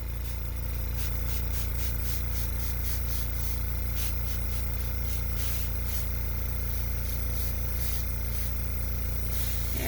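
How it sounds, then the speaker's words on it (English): An airbrush sprays color for drop shadows on a card, a steady hiss under a constant low compressor hum, with pulsed bursts of airflow across the span and no talking. "Just popping that into the airbrush."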